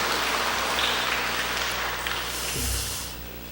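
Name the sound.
church congregation applause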